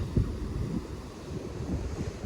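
Low rumbling surf of sea waves washing ashore at Chorwad, steady and continuous with a blustery wind-like roar, no voices.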